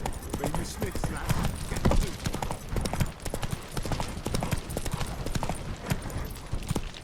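Roach, a horse in the video game The Witcher 3, gallops with rapid rhythmic hoofbeats that thud close and loud, a steady clatter throughout.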